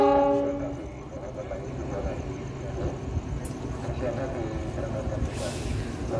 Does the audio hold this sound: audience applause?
no